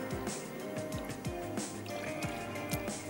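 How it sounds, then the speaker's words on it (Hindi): Two cups of water pour into a cooking pot of pulao with vinegar, a steady close splashing and gurgling stream with bubbling drips throughout. "हमने ऐड कर देनी है 2 प्याली पानी शामिल कर देते हैं"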